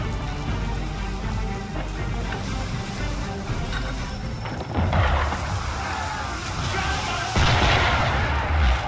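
Ship cannons fire on a boat in Assassin's Creed 3 amid splashing water and rain-like noise, with heavy booming impacts landing near the middle and toward the end over a continuous wash of sea sound.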